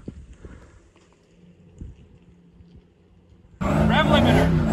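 A 700 hp turbocharged Silverado single-cab drift truck on the street, its engine suddenly roaring loud and close at the rev limiter after a stretch of quiet low rumble and faint knocks.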